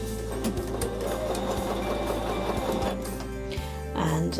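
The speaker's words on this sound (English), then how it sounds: "I've got my little bit of starting fabric in the sewing machine" A domestic sewing machine stitches quilt fabric pieces together at a quarter-inch seam, a fast steady mechanical whirr with regular needle clatter that pauses briefly near the end before starting again.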